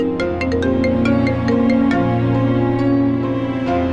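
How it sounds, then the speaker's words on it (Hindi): A mobile phone ringtone for an incoming call plays loud and close, a repeating melodic tune with steady tonal notes and bright chiming accents, with no voices over it. "संतोष, ये मुझे क्यों कॉल कर रही?"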